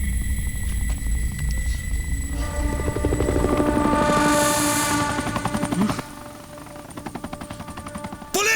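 A police helicopter's rapid rotor chop thumps steadily among other rumbling noises, with a higher whine in the background.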